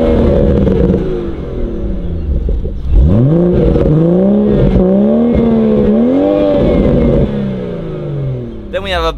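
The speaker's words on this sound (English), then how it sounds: "I'll try and play some audio of the BMW 240i if I can to give you a gist of what it will sound like" A BMW M240i engine in Rocket League revs up and down in repeated rising and falling sweeps, a loud, close mid-pitched drone that carries steadily through to the end.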